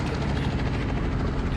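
Police helicopter in an Indian bike video game, a continuous loud rotor whir with a fast rhythmic chop throughout.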